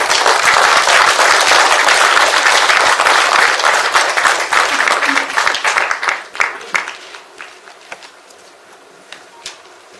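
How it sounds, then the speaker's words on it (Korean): Loud, dense applause from an audience at a public memorial report meeting for independence activist Jang Jun-ha, sustained at first and then thinning into scattered claps that fade out over the last few seconds. "우리 격려의 박수를 보내주시기 바랍니다."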